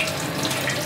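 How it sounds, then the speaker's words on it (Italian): Cold tap water runs steadily over a glass bottle held beneath it, a brief, continuous splashing rush at moderate volume with no voices. "La tengo un po' sotto l'acqua fredda"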